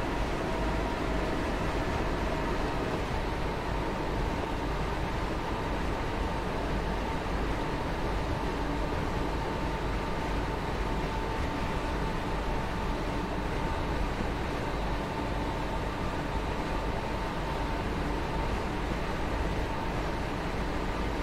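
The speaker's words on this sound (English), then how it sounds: "you can sort of hear the wind, the sound of the wind going past" Constant wind rushes past a train cab in the Train Sim World 3 video game on the Cathcart Circle Line, a steady, even broadband roar layered over a low rumble, with no speech.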